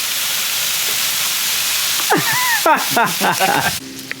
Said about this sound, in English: Just drop that chicken sausage onto the griddle.